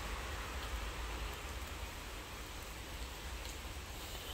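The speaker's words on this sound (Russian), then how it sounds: "А сегодня уже холодно, уже дождь." Autumn rain pours steadily outdoors, a dense, continuous hiss of falling water holding at an even level throughout with no voices.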